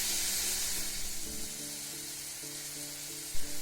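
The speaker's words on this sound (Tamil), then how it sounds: "வெங்காயம் தக்காளி வந்து நல்லா வந்து வதங்கணுங்க." Onions and tomatoes sautéing in a pan for biryani give off a steady broadband sizzle, with soft tonal hums and a brief clank near the end, and no voices.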